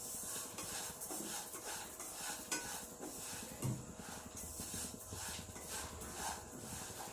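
Dry fruits and sesame seeds roast in a pan for laddu, making a continuous dense rustle and gentle sizzle as they are stirred, with light scraping against the metal throughout.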